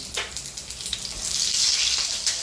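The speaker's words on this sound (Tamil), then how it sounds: "கடுகு பொரியதும் இந்த சின்னதாக கட் பண்ண பூண்டு போட்டுக்குவோம்." Mustard seeds and chopped garlic sizzling in hot oil, a steady close hiss with faint crackles that swells slightly toward the end.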